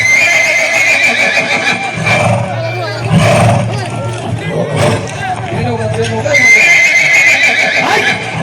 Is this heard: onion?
no